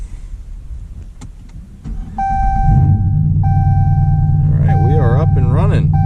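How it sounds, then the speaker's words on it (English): A car engine cranks and fires up right after a Diablosport i3 93-octane tune is installed, then settles into a steady, loud idle rumble with a faint whine on top, and voices talk over it. "we will see if she starts."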